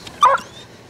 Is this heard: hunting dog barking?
yes